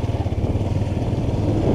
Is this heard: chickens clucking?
no